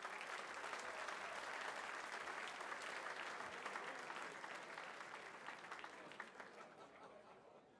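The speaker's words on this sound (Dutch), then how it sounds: "Geef ze een groot applaus." Sustained applause from a crowd honouring the winners at a Carnival event in Maastricht, dense and steady clapping that gradually thins and fades toward the end.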